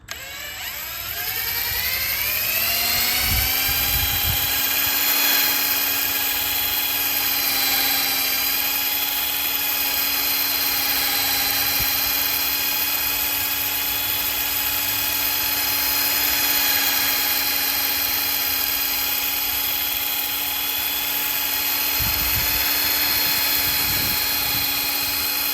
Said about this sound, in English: I'm going to go over it one more time with the cutting compound just to make sure all the sand scratches are out.